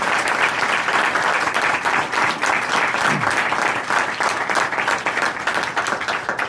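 A large university audience applauds steadily, dense clapping sustained throughout at an even, loud level.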